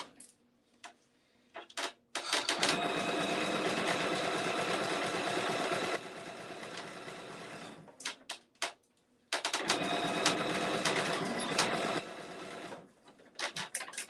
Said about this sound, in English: my sewing machine is definitely doing a better job